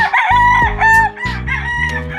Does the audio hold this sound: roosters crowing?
yes